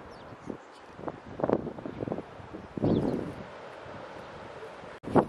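Breeze blows along the East Anglia coast near beach huts, with soft wind rumble and gusty buffeting against the microphone, rising in a few bursts before settling into a low outdoor hush.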